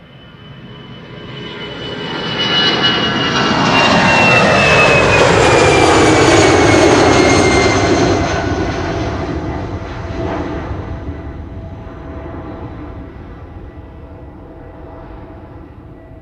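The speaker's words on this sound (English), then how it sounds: "Qatar 777 to Doha is looking to line up on center." A Qatar Airways Boeing 777 bound for Doha roars on the runway at Schiphol, its jet engines swelling into a loud, broad rumble that peaks midway and slowly eases off while staying strong.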